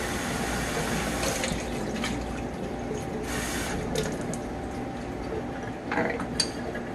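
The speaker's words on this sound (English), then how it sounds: "I should probably wait till I finish using the water because I'm probably drowning my own voice out." Tap water runs into a sink while houseplant cuttings are prepared, a steady splashing stream with occasional louder gushes and drips, near and continuous for several seconds.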